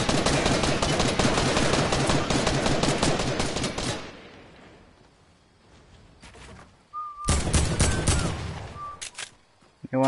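Rapid gunfire from the tactical shooter Rainbow Six, loud and dense at first, then trailing off into quiet, followed by a second burst of shots and a few short tonal whistles.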